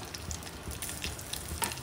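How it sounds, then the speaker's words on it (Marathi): Coriander and curry leaves crackle in hot oil during a tempering, a faint continuous sizzle dotted with small irregular pops. "कोथिंबीर तडतडली आहे, कढीपत्ता तडतडलाय"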